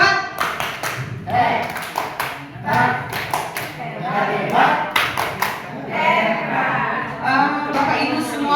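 At a teachers' training workshop, a group claps a rhythmic clapping chant: loud, patterned bursts of claps in quick clusters, mixed with voices chanting along throughout.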